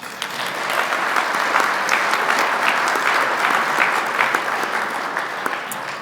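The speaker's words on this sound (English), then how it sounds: "Let's give him a big round of applause." Applause from an audience at a business awards ceremony honoring a CEO of the year, a steady burst of many hands clapping that swells quickly and holds at an even level for several seconds.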